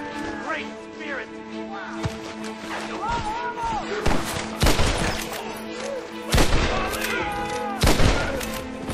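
Frequent gunshots crack out in a Red Dead Redemption shootout, a burst of loud, irregular shots spread over several seconds with voices shouting between them.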